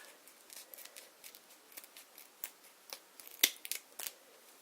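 Scissors trimming a fabric callsign patch, heard as a series of small, quiet snips and crisp clicks at an irregular pace, close up against a hushed background.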